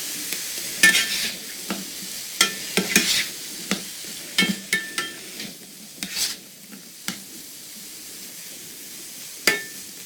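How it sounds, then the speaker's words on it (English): Vegetables sauté in a pan with a little added water for a vegan pizza topping, giving a steady soft sizzle broken by a dozen or so sharp scrapes and clicks of stirring, close by and with no talk. "I personally like to put just a little bit of water in there, just so they have a little bit of a sautéing to them."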